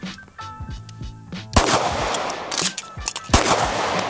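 Pistol with a full recoiling slide in a chassis firing several loud, sharp shots, a quicker burst early and louder reports at about 1.5 and 3.3 seconds, with no talking.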